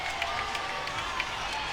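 Applause and crowd noise from a visiting team at a college gymnastics meet, a steady, moderately distant wash of clapping with scattered sharper claps, no clear talk over it.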